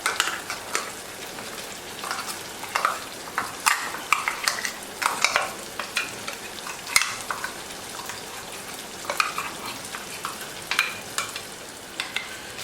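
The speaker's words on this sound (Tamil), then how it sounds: "இந்த மசாலாவோட எல்லாத்தையும் சேர்த்து அதையும் ஒரு ரெண்டு நிமிஷம் நல்லா வதக்கிக்குவோம்" Ground masala paste and cooked tomato sautéing in a pan for sundakkai kara kuzhambu, with steady soft sizzling and repeated scraping stir strokes throughout, close and moderately loud with no talking.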